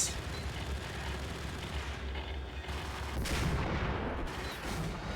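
Heavy bursts of gunfire in Max Payne, overlapping shots and booming impacts that roll on steadily at moderate volume, with a louder cluster of blasts toward the end.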